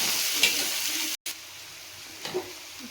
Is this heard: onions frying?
yes